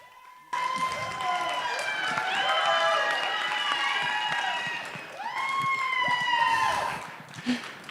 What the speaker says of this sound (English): Big round of applause for Miguel Rico.